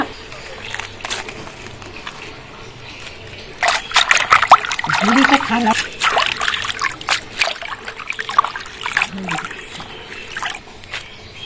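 Helencha greens being washed by hand in water, with intermittent splashing and sloshing and trickling drips, close by, while a voice talks quietly underneath.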